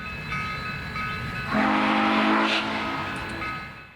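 Steam locomotive 148 sounds a long chime whistle in thick fog while pulling a Santa train into a siding, loud and sustained with a steady rumble beneath.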